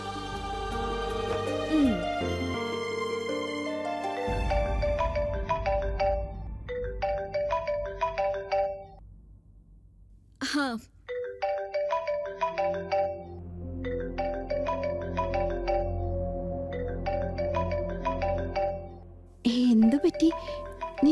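A mobile phone ringtone plays unanswered in a Malayalam TV serial scene, a repeating melodic ring in bursts with brief pauses, sitting over background music and ambient tone.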